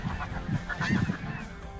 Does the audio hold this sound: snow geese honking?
yes